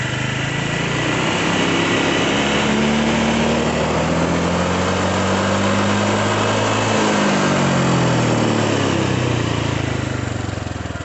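A Honda Vario 125/150 scooter engine with a faulty throttle body is revved slowly, its close, loud drone rising and falling smoothly in pitch as the throttle opens and eases off over several seconds.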